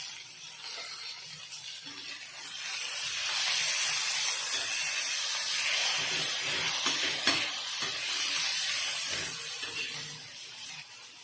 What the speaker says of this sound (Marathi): आपण अशा प्रकारे वड्या तळून घेतलेल्या आहेत